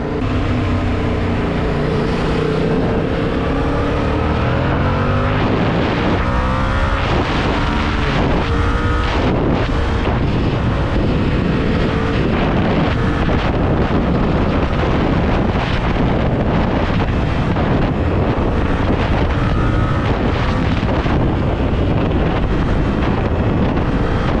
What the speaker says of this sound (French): on va tout simplement faire un 0 à 110 donc sur autoroute. Comme ça vous voyez à peu près comment ça accélère.